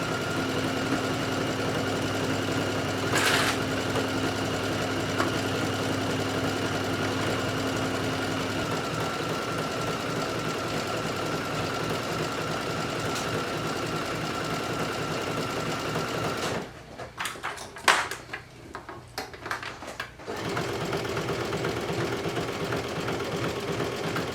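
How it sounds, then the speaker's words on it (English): A sewing machine stitches a sunflower swim top neckline in a long, loud, steady run of rapid needle rattle. It stops briefly near the end for a pause with soft handling sounds, then resumes. "When you stitch over the strap"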